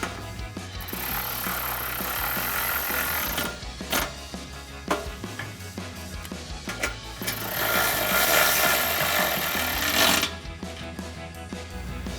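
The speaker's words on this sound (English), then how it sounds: "I can take a 13mm socket and tighten these down" A 13mm socket tightens the running board bracket bolts on a 2022-2024 Toyota Tundra, giving a steady mechanical whirring and rattling hum with a few sharp clicks, close and continuous throughout.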